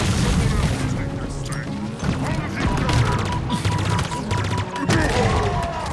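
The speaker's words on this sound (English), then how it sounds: "Oh, that was my own grenade." Explosions and gunfire in a Halo Infinite firefight, including the player's own grenade going off, with dense booming blasts and rattling shots filling the whole stretch under a speaking voice.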